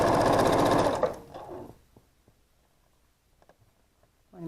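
A sewing machine stitches quilt pieces in a fast, loud mechanical whir for about a second, then stops, leaving quiet small clicks and handling taps before a brief rustle.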